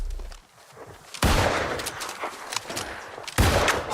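Musket shots in New World: Aeternum, with a sharp loud blast at about one second and another near the end, each followed by a lingering rumble and scattered combat sounds.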